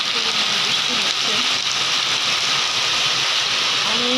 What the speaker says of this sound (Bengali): অনেক বৃষ্টি হচ্ছে সকাল থেকে।